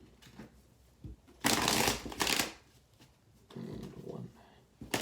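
Tarot cards being shuffled by hand in a few quick riffling bursts, close and crisp, separated by short pauses.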